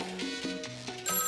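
A telephone rings with a quick electronic warbling tone, repeating in short bursts up close before the pattern shifts to a higher chime at the end.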